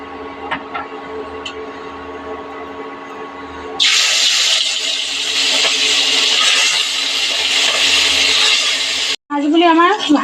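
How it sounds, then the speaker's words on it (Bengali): Katla fish slid into hot mustard oil in a wok, a loud sudden sizzle that bursts in and hisses steadily for several seconds before cutting off, followed by a brief voice. "তেলটা আমার গরম হয়ে গেছে, এবার আমি মাছগুলি ভেজে নেব।"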